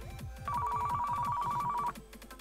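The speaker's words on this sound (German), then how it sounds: "Müsste gleich das Telefon wieder klingeln." A telephone in a video game gives one long, steady electronic ring over a low, rhythmic mechanical thrum, then cuts off and leaves the thrum running alone.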